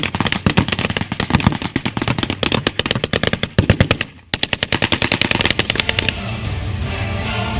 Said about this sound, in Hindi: यहाँ बंदूकें बोल रही हैं, तोप गरज रही हैं